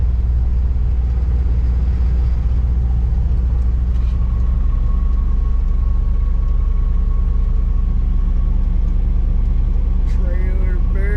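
A semi truck pulling a reefer trailer rolls slowly through a crowded rest area, its low engine rumble steady and close throughout, with a brief higher tone near the end.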